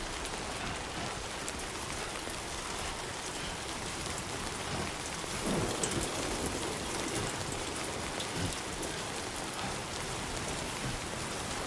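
Timefall rain in the video game Death Stranding 2 falls in a steady, dense hiss of drops hitting surfaces, even and unbroken throughout with a faint swell midway, and no voices.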